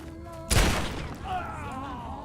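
A single loud gunshot in Fallout 3 bursts out and rings into a decaying tail, set against ongoing game ambience and a voice in the background.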